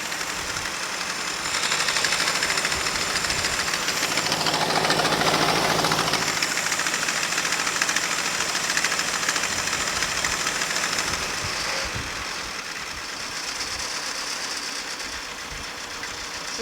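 A Ford tractor engine runs and idles nearby, a steady rough knocking rumble that swells slightly in the first seconds and then settles into a continuous idle, with no voices.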